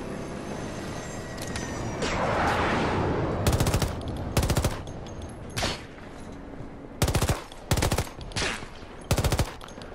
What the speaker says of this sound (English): sentry gun!